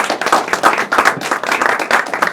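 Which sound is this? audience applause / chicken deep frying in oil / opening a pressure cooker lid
audience applause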